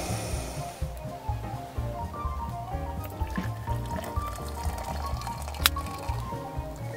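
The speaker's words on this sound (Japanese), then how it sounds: "今お湯沸かしてます" Water heats over a camp stove at a night-time solo campsite, giving a soft, continuous liquid bubbling and dripping under a steady, dense background hum, with one sharp click near the end.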